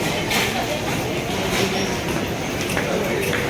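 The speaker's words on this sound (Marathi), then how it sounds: "ही आमची ट्रेन होती." A passenger train running into Mumbai's CSMT station in the early morning, a dense steady rumble and roar with faint clatter throughout, close and loud.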